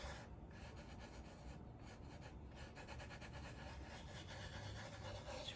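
Something being rubbed into a wooden business sign by hand, a steady, dense scratchy rubbing that continues without a break, heard close up with no talking.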